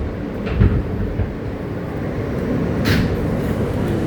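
Onboard rumble of an R160 J subway train running on New York's local line toward Hewes Street, a steady low roar with a few brief rattles and clanks, no talk.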